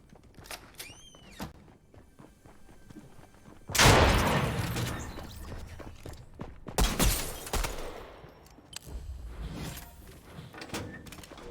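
Gunfire in the Fortnite video game: a couple of loud sharp bursts stand out against quieter game noise, with scattered clicks and thuds between them.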